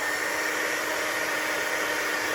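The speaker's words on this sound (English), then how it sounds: "keep moving your heat tool around until it starts kind of affecting the powder" A heat embossing tool blows hot air over embossing powder on a card, giving a steady, even, fan-like whoosh with no breaks.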